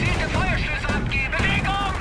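Gunfire and booming artillery shots from the World War II strategy game Company of Heroes crack and thud in quick bursts, up close and loud, with a voice talking over them.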